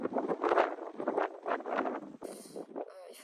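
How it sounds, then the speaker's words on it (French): Gusty wind buffeting the microphone atop a hilltop overlooking rock pinnacles on the Coromandel Peninsula, New Zealand, roaring in uneven surges, close and loud throughout, with no talking. "Il y a des rafales de vent."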